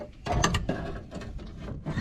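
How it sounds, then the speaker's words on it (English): Side pins come out of an H-pattern shifter during an S1 sequential shifter install, making close metallic clicks and ratcheting clatter in a few quick bursts. "I'm going to take out the side little pins that do the back and forth on the H pattern shifter"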